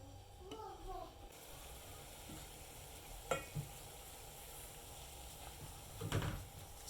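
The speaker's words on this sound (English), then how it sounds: "So you can see it's boiling" Syrup for a baobab (mabuyu) snack boils in a pot with a continuous hissing, bubbling sizzle, broken by a few soft knocks and clinks nearby.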